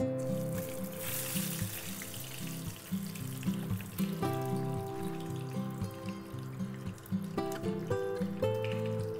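Spiced eggplant slices, rubbed with turmeric, chilli, cumin and salt, fry in a pan with a steady close hiss and sizzle that runs the whole time, broken by a few brief clinks near the end.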